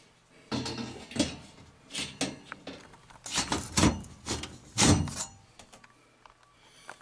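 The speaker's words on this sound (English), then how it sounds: "And then you just put your grate back on the front for safety." Metal front grate of a Bryant gas furnace being fitted back into place, a run of irregular clanks, rattles and thumps, some sharp and loud, with quiet pauses between and no speech.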